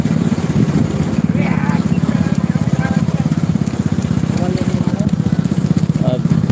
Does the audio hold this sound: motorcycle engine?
yes